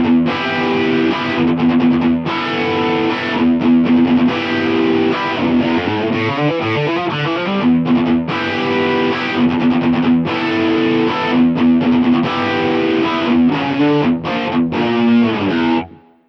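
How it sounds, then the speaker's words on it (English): Electric guitar playing a melodic line through an HX Stomp Elephant Man delay with a dark, shimmering chorus, notes repeating and swirling, loud and continuous until a quick fade. "I'll use the Elephant Man delay, which has a chorus effect and a darker sound."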